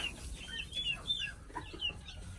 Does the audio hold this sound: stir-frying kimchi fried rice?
no